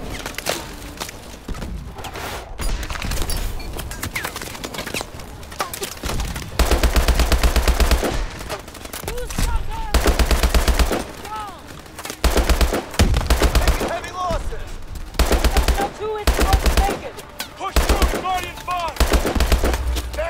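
Rapid automatic gunfire bursts from the video game Call of Duty: Advanced Warfare, loud repeated volleys with short pauses between them, occasional single shots, and a voice talking over the action.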